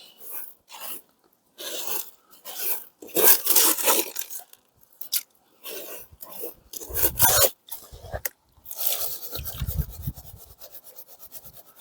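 Gravel and small ironstone nodules scraped and rasped around a metal gold pan at a cold creek, a series of close, gritty scraping bursts with short pauses between them, no talking.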